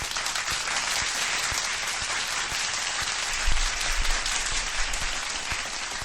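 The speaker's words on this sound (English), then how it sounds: "A round of applause for everyone in the chat." Continuous round of applause sampled during a live UFC fight reaction stream, dense and steady clapping throughout with a brief low rumble partway in.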